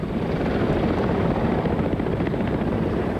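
Helicopters drone loud and close, a steady, unbroken rotor roar of military aircraft arriving during the fall of Saigon, with no other sounds.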